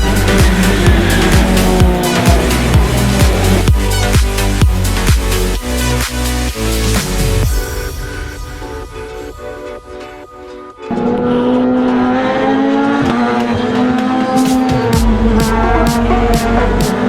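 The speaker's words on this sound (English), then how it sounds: "the Formula 3 cars coming round" Formula 3 race cars lapping Silverstone circuit, loud high-revving engines with rising and falling pitch as cars pass close by, a quieter lull midway before more cars roar through.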